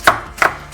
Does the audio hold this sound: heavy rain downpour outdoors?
no